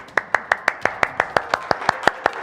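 A small group claps steadily for mothers on Mother's Day, about a dozen sharp, evenly spaced hand claps in a brisk rhythm with no talking.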